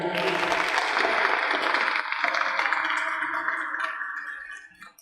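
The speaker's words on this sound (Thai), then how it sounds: "ขอเสียงปรบมือด้วยครับ" Audience applause at a Thai ceremony honoring an artist's donation of an aluminum artwork to the nation, a dense sustained clapping from a crowd that thins and fades out toward the end.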